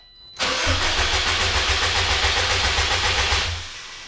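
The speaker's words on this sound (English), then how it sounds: "it looks like we're able to go ahead and turn it over" Subaru STI engine cranking on its starter with the clutch in, a loud, steady rhythmic chug of even pulses lasting about three seconds before cutting off, with no speech.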